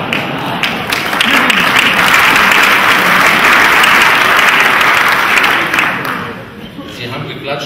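Sustained applause from an audience at a mayor's farewell ceremony, a dense wash of many hands clapping loudly and steadily for several seconds before thinning out toward the end.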